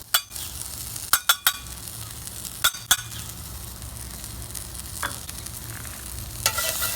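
Green onions, garlic, sage and oregano from the garden sizzle in a frying pan, a steady hiss broken by a few sharp clinks and scrapes of stirring near the start.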